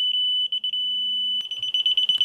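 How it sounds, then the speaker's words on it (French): High-pitched electronic beeping from a laser level receiver picking up a Cigman CM-701 SE green line laser: a few spaced beeps over a steady tone, then a fast, regular run of chirps toward the end. "qui lorsqu'il va capter le signal du laser va se mettre à biper"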